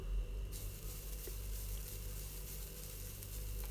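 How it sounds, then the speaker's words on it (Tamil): Grated coconut sautéing in a pan for a sweet dish, giving a soft, steady, fairly quiet sizzle with faint stirring scrapes, close and unbroken for a few seconds. "இப்போ ஒரு பாத்திரத்தில் நம்ம எடுத்து வச்சுருக்க தேங்காவை நல்லா வதக்கிக்கலாம்."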